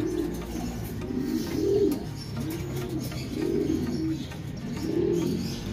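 Racing pigeons, molting, cooing in repeated soft, rolling calls, several in a row at an even pace, close by with a light background hiss.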